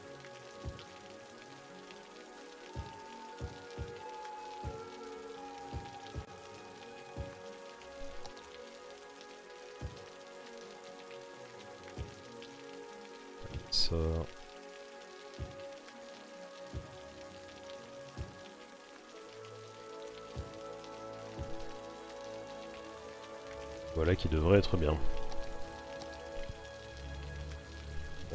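Rain falling in the city-building game Cities: Skylines, a steady soft patter on surfaces under a low ambient game hum, with a brief louder burst of another effect near the end and a few quiet spoken words.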